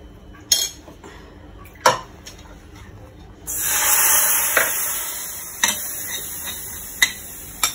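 Gram flour lightly frying in a pan for a prawn curry: sharp utensil taps and clicks, then a steady hissing sizzle that swells and fades, punctuated by further spoon knocks against the pan.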